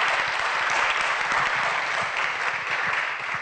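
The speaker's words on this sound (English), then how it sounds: "we can give a round of applause first" An audience at a lecture gives a sustained round of applause, an even, dense clatter of many hands with no talk over it.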